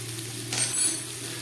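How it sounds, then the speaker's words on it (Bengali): Potato, coconut and boiled chickpeas frying in a pan as coriander powder goes in, a steady close sizzle with a brief louder stirring burst midway. "আলু নারকেল ছোলা আমার ভাজা হয়ে গেছে। এবার দিয়ে দিচ্ছি হাফ চামচ ধনের গুঁড়ো"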